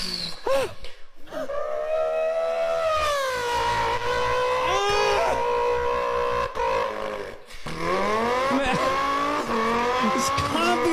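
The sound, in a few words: man imitating a race car with tire squeal by voice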